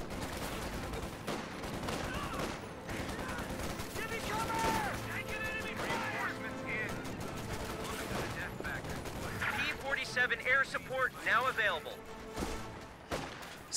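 MG34 machine gun fire in Company of Heroes 2, with bursts of rapid shots mixed with other battle gunfire and explosions under continuous commentary.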